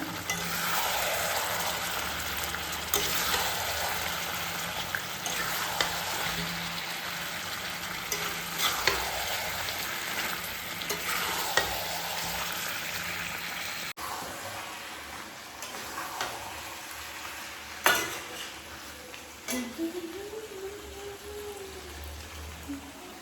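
Spicy chicken stir-frying in a pan, a continuous crackling sizzle with repeated scraping strokes of a spatula, loud at first and then quieter, broken by a few sharp clanks.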